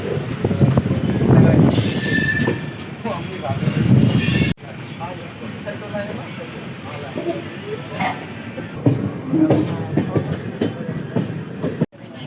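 A passenger train (14055, Mau Junction to Anand Vihar) pulls out from platform 1, with rumbling rail noise, wheel squeal and irregular clatter, plus a sharp cut partway through and background voices.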